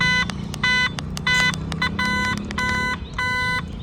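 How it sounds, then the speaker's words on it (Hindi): A Revolt electric motorbike's locator sounds a series of loud, rapid electronic beeps in short repeated bursts, heard close up. "ऐसे बीप करेगी आपकी गाड़ी"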